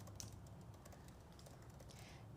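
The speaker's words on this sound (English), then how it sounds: "now we can start typing in our font or our sayings" Quiet typing on a computer keyboard, a rapid string of soft key clicks at an even pace, faint and close, with no talking.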